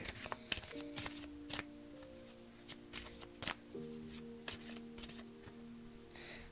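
Angel oracle cards being shuffled at close range, with quiet riffling and sharp card snaps repeating irregularly throughout, alone with no talk.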